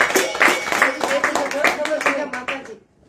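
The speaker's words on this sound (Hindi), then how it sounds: "उनके लिए जोर से ताली बजाओ" At a kirtan gathering in a home in Bhuj, India, people clap loudly for the house owner in a rhythmic, near, regular beat, with singing or chanting voices running along with it before it stops abruptly.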